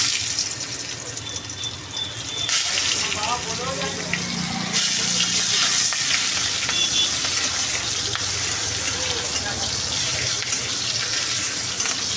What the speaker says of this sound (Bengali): দেওয়া ছিল সেই তেলেই এখন আমি দিয়ে দেবো পেঁয়াজ।